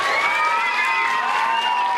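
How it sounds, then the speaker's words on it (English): A room full of students applauding and cheering at a New Orleans Recovery School District celebration, dense continuous clapping with whoops and shouts, loud and close throughout. "Let's give yourselves a big round of applause."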